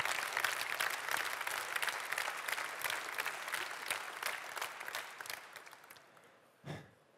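Crowd applause after a speech on stage, dense and sustained, then gradually thinning and fading toward the end, followed by a single brief low thump.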